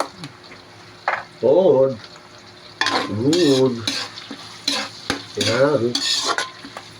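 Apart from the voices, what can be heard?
garlic sautéing in a pan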